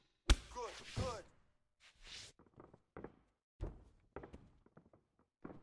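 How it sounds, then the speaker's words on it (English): Punches land in the EA Sports UFC 2 mixed martial arts video game, a string of sharp, thudding impacts spaced irregularly across a few seconds, one loud burst early followed by quieter hits. "Big left punch. Huge left."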